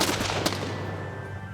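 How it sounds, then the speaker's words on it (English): Baker rifles fire a single volley at a historical reenactment, a loud, sharp crack that rolls out into a long reverberant tail across open ground. "Volley fire, make ready! Present!"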